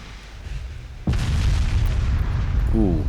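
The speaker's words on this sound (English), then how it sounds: "Torpedo hit." A torpedo hit on a warship in the naval strategy game Ultimate Admiral Dreadnoughts lands as a sudden loud boom, followed by a sustained heavy rumble, with a brief voice-like tone near the end.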